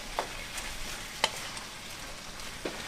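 Ground beef and onions brown in a frying pan for tacos, a soft steady sizzle with a few faint scraping stirs, quiet and alone with no talk.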